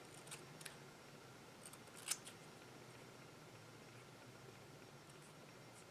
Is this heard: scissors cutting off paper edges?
yes